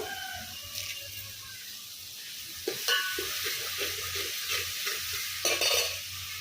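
Fresh curry leaves hit hot oil in a pan over a husk-fired stove for sambar, crackling and sizzling steadily with bursts of spattering and a few stirring scrapes.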